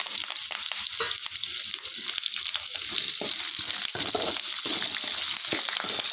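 Curry leaves, dried red chillies, ginger and onions sautéing in hot oil in a pan: a dense, continuous hiss of frying, close and steady, broken by soft stirring scrapes.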